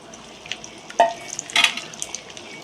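Okra kara kuzhambu curry being stirred in a pan: a few quick spoon scrapes against the metal over a faint background, with a louder scraping burst near the middle.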